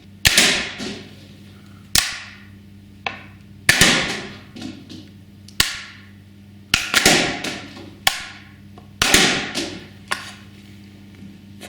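A heavy rubber band gun fires thick rubber bands in a string of sharp snapping shots, about a dozen over several seconds, some in quick doubles, close and loud with no talking.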